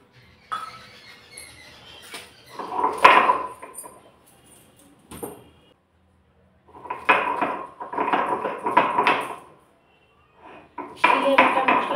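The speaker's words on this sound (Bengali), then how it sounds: "আদা রসুনগুলো বেটে নিই।" Ginger and garlic are ground on a stone slab with bursts of rhythmic scraping and knocking, while someone talks between strokes.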